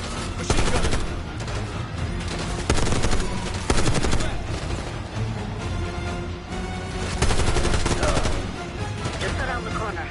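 Sustained machine gun fire in a Call of Duty: Black Ops 6 campaign battle, with heavy rapid bursts, clattering impacts and louder surges throughout, and some voices mixed in.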